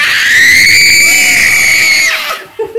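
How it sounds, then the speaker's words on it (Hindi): A young girl gives a long, loud, high-pitched scream on request at home. It holds steady for about two seconds, then breaks off, and a few short vocal sounds follow. "ये देखो अभी चीख के दिखाओ मुझे"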